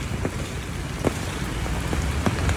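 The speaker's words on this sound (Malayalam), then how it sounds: "ഒത്തിരി ഒത്തിരി ഒത്തിരി മഴ ദേ വരുന്നു നമുക്ക്" Steady, dense rain roars throughout with a broadband wash, occasional sharper drops or bumps standing out, and a low rumble underneath.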